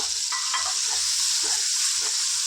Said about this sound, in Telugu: దీన్ని ఆయిల్ పైకి వచ్చే వరకు చక్కగా దీన్ని ఇలా ఫ్రై చేసుకోవాలి